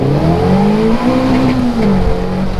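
A car circling a roundabout, its engine rising and falling in pitch as it accelerates around the loop, loud and fairly close, with no voices over it.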